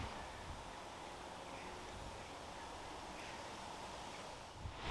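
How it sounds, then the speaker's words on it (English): Steady wind buffets and rustles on a very windy day in a Gloucestershire village, a low continuous roar of gusts and microphone noise running throughout with no voices. "it's a very windy day as well"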